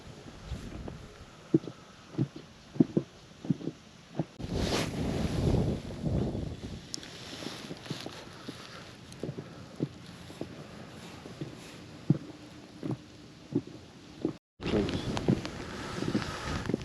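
Gusty wind buffets the microphone in rumbling bursts amid rain while spin fishing near a dam, with scattered small knocks and clatters throughout.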